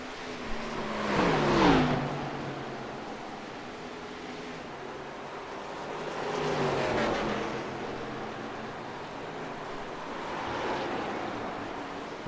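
Race cars circle a track in a race with laps winding down, each one sweeping past in a rising and fading roar. One loud close pass is followed by two softer, more distant ones, with wind noise in between.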